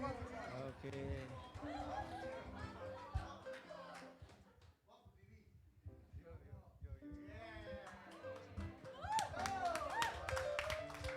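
Applause and crowd chatter from a church congregation at a WTC Kota Wisata worship service, a busy mix of clapping and voices that dips briefly mid-clip before rising again, with talk throughout.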